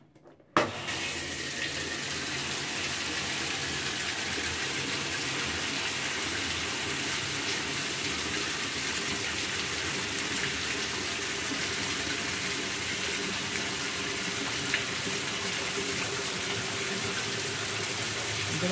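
Water rushes steadily into a washing machine drum during a home repair test, starting with a click and running as a loud, constant gush for nearly twenty seconds.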